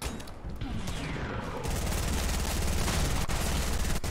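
Fortnite gunfire, a sustained stream of rapid shots that grows denser and louder after a brief lead-in, close and continuous to the end, no talk.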